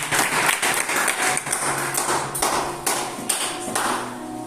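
Congregation applauding in a church during a family worship service, a dense sustained clatter of many hands clapping, loud and close, with scattered sharper claps rising above the steady wash.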